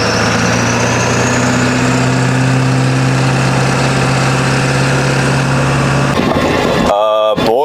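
Ford 7.3L Powerstroke diesel with a turbo, running in a pickup, a steady low droning engine note with a faint rising turbo whine, close and loud, cutting into jolts and rattling near the end, with a voice talking.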